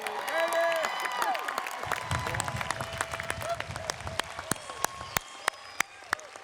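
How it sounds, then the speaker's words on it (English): Sustained applause from a large graduation ceremony audience, dense clapping that starts full and thins out over several seconds into scattered individual claps, with faint voices mixed in. "Another round of applause"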